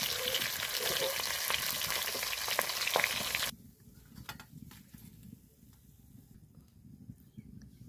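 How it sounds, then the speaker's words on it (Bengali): Fish fries in hot oil in a pan with a loud, dense sizzle and crackle. The sizzle drops sharply partway through to a quieter, sparse spitting. There is no talking. "ওই তেলেই আমি আবারও যে কটা মাছ আছে দিয়ে ভেজে নেবো"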